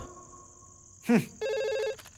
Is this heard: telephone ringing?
yes